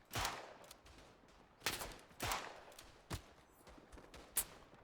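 Smith & Wesson Model 3 revolver shots in the World War I shooter Tannenberg: several sharp, cracking reports at irregular intervals, some near and loud, others fainter and more distant, with brief echoing tails.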